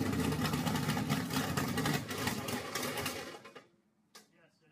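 A faulty car makes a rapid, rattling mechanical whir like a running engine with a fast clatter, steady for several seconds then cutting off, followed by a brief faint sound.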